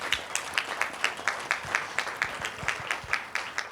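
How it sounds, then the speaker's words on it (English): A small audience at a ribbon cutting and grand opening of an early learning center claps in a steady, evenly spaced rhythm, the individual claps crisp and fairly near, with no talking over them. "A big, incredible, yet another round of applause."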